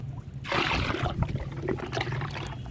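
Liquid organic fertilizer poured into plain water, a burst of splashing and gurgling that starts abruptly, then settles into a softer trickle.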